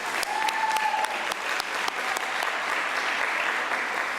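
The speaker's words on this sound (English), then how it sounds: "Can we give her another round of applause" Steady applause from a meeting audience honouring a school workshop presenter, a dense continuous patter of many hands with a faint tonal whistle early on, filling the whole stretch without speech.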